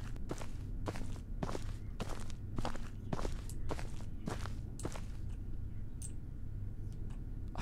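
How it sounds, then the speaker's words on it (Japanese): Footsteps of an enemy in the Hong Kong horror game ParanormalHK thud in a steady walking rhythm, about a dozen crisp close steps over a low droning ambience, with a few faint clicks at the end. "これ敵の足音分かりやすくしてくれてる？"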